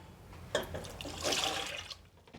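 Water splashes and gurgles for a couple of seconds as it is poured into a pot, close and moderately loud.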